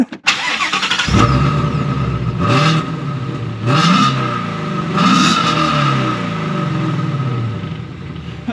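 A 2018 Ford Mustang GT350R engine fires up and revs hard several times in loud bursts, each roar falling back to a rumbling idle.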